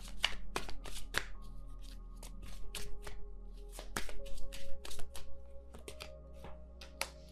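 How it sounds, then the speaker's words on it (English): Tarot cards are shuffled by hand close to the microphone, producing quick papery riffles and soft taps in irregular bursts, fairly quiet and with no voice over them. "I keep getting the same types of cards and I shuffle a lot"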